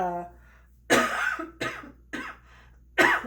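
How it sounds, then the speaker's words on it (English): Four harsh coughs in a row, close and loud, spaced about half a second apart after a brief moment of quieter sound. "so sorry for the coughing"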